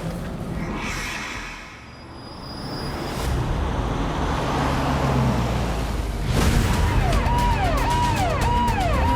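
A car swings around and accelerates away on a road during a tense police pursuit, engine and road noise rising steadily, with a warbling siren joining in toward the end.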